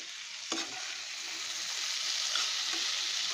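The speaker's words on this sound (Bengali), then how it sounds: "এখন নাড়াচাড়া করে দিচ্ছি গাইস, দেখুন সিদ্ধ হয়ে গেছে আমার আলুগুলো" Potatoes sizzling steadily in a frying pan as they are stirred, a continuous hiss with a soft utensil scrape near the start and faint clinks later, close and alone without any talk.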